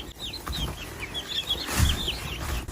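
Broiler chickens, newly arrived chicks, giving a steady stream of high, soft peeping chirps close by, with faint rustling and handling noises underneath.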